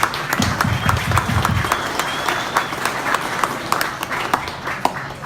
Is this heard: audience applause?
yes